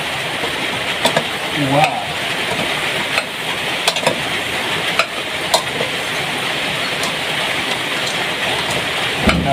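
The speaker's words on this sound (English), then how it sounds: "the rain has started." Rain begins falling outdoors in Kenya while a family dinner cooks, a steady broadband patter dotted with sharper drops and knocks, and a man briefly exclaims partway through.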